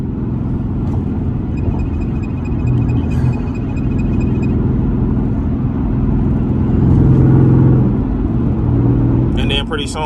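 Chrysler 300C with a Hemi V8 pulls hard, a loud steady engine roar and rumble that swells and builds toward the end, heard from inside the car over road noise, with a brief speech-like layer mixed in.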